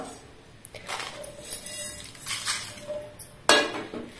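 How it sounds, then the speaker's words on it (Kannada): Roasted, cooled spices are tipped into a mixer jar, giving a few light clinks and rattles of dry spice against the metal, with a sharper knock near the end, all close and fairly quiet. "ಮಿಕ್ಸರ್ ಜಾರಿಗೆ ಇದನ್ನು ಹಾಕಿಕೊಳ್ಳುವ"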